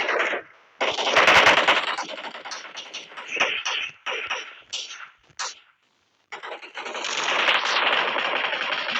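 Rapid bursts of automatic gunfire in the battle royale game PUBG crackle loudly and close, broken by short pauses and a brief silence before another sustained volley.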